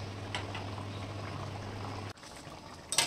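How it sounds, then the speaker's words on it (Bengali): Chickpea and potato curry gravy boils in a pot, a soft steady bubbling hiss over a low hum that cuts out abruptly, followed by quieter bubbling and a brief clatter at the end. "এখানে ঝোলটা ভালোভাবে ফুটে গেছে"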